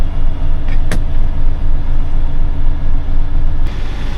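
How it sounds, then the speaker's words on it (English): Loaded logging truck creeping forward in the bush, a loud, steady low diesel rumble heard from close by, with a couple of brief clanks partway through. "So I've just moved the truck forward and loading up the backpack off the trailer."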